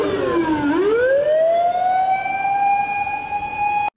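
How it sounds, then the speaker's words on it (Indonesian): Toy red fire truck siren wailing loud and close, starting with a falling tone that swoops back up into a steady high electronic wail held for several seconds. "Wow, lihat, kita ada mobil pemadam kebakaran."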